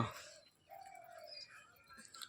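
Pigeons in a coop give a single soft, drawn-out coo at close range, with faint chirps and rustling around it and no talk.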